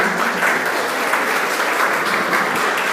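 Steady applause from an audience at a lecture course, even, continuous clapping with no voices over it.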